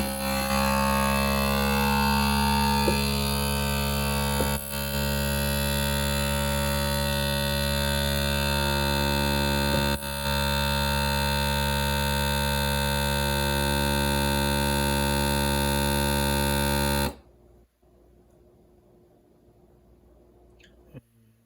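A Nesco food vacuum sealer running its auto vac cycle, a loud, steady motor hum with a couple of small clicks that cuts off abruptly after about seventeen seconds, leaving near silence.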